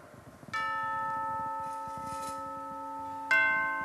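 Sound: church bells tolling in a theatre play

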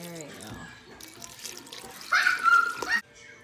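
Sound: distilled water poured over rose petals in a pot

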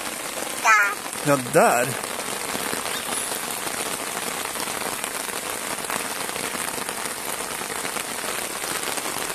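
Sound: rain falling

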